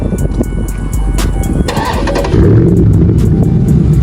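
A Dodge 392 Scat Pack V8 engine cranks and catches, then settles into a loud, deep rumbling rev close by, with no talking.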